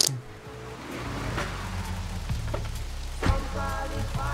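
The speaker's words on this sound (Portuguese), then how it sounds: "Essa chuva continua deixando tudo pesado pra caralho." Steady rain falls in the video game GTA 3 Definitive Edition, a constant hiss of drops on surfaces with a low rumble beneath and a few sharp thuds or splashes, no talking.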